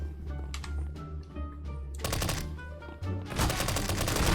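Rapid automatic gunfire from the video game CS:GO crackles in dense bursts, growing louder and sharper in the second half with sustained rattling volleys.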